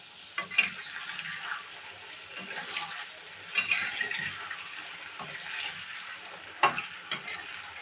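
Chicken pakoras fry in oil in a pan with a soft, steady sizzle, broken by a few sharp clinks and scrapes as the pieces are turned.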